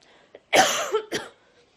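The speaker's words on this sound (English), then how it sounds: "I am still coughing a lot while I do YouTube" A close, harsh cough bursts out in two quick fits, the first longer and rasping, the second shorter, with quiet breathing before and after.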